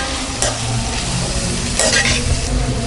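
Steady loud sizzling of potatoes frying in a pan, with a spatula occasionally scraping and stirring through it, no voices.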